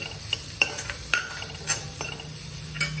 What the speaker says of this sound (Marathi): हे सगळं एकदा मिक्स करून घेणार आहे छान मसाले भाजून घेणारे